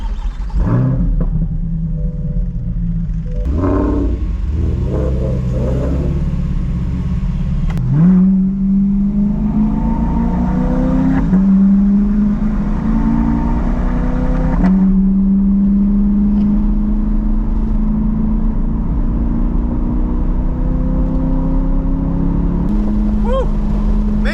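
A Corvette drives on a race track, its engine rumbling loudly and revving up through repeated rising pitch sweeps as it accelerates between gear changes, with the car's drone steady throughout.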